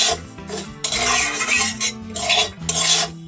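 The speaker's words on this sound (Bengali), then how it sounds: "খুব ভালো করে সুজিটা এইভাবে ভেজে নিতে হবে।" Semolina being stirred and fried in a spoonful of homemade ghee, a close scraping and rasping of spoon against pan in uneven strokes, with brief pauses and no talking.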